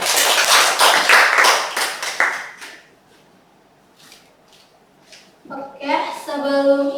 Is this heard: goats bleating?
no